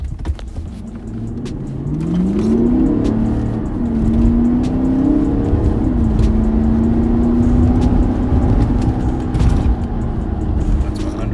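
A stock 2013 VW Touareg V8 TDI accelerates hard on a timed run, its diesel engine note climbing steadily through the gears with brief dips at shifts, loud and close throughout.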